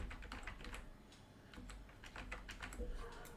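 Quick, uneven bursts of typing on a computer keyboard come from close by. The keys clatter quietly in short runs, and nobody talks.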